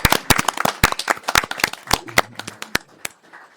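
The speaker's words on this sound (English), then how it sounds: "Yeah, round of applause." A round of applause breaks out at a city council meeting in Gaithersburg, a burst of sharp, uneven claps from a modest group in a room that thins out and scatters toward the end.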